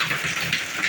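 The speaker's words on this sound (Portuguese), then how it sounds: "Chuva de granizo." Hailstones fall during a hailstorm with large ice pieces, making a dense, steady patter with a few stronger hissing swells.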